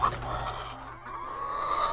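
Chickens cluck and murmur close by in a short burst of farmyard sound; hens of a laying flock.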